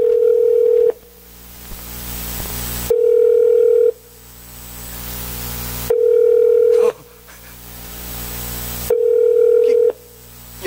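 A phone call that nobody answers repeats its ringback tone, four loud, even pulses evenly spaced, each followed by a few seconds of quiet line hiss.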